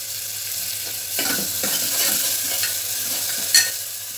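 A spoon stirs chopped tomatoes and coriander through a sizzling frying pan while making chana masala, giving soft scraping strokes over a steady hiss, with a sharper clink of metal near the end.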